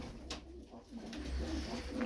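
Pigeons cooing nearby among a group of birds, soft low repeated coos over a quiet background with no talking.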